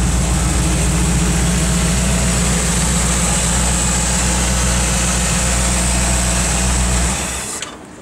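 A freshly rebuilt engine in a 1967 Dodge Coronet 440 idles with a loud, steady, lumpy rumble, heard close up for several seconds before abruptly cutting off near the end.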